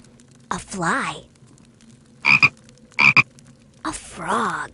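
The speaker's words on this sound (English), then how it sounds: "A frog." Cartoonish frog croaks from the I Spy Spooky Mansion PC game, arriving as a handful of separate bursts: a longer warbling croak, two quick clipped ones, then another drawn-out croak, each loud and close.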